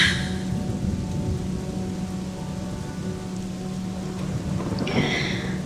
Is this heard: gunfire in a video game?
no